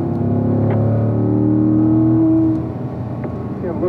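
A race car at the Spring Mountain circuit accelerates out of a corner, its engine note rising in a loud, close drone heard from the cockpit before easing off and building again.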